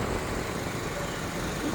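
A steady, loud engine roar from a large motorcycle running continuously close by, with road rumble underneath and no voices.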